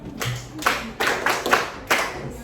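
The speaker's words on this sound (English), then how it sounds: "Clap for her." Students in an in-person classroom clap for a classmate who answered a maths question, giving about five sharp, scattered claps spread over a couple of seconds, close by and unsteady, with no talking.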